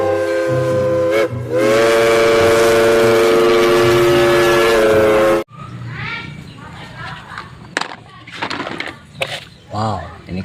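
A toy train sounds a loud, steady electronic horn with a whirring motor beneath it for about five seconds, then cuts off, leaving faint clicks and a child's chatter.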